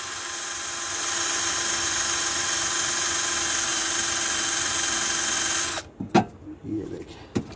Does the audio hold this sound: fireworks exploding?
no